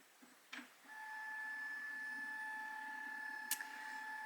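A nearby printer clicks, then settles into a steady whining hum with a brief snap partway through, faint and continuous.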